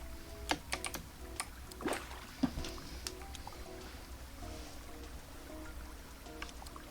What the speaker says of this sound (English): You should turn up your mouse and keyboard.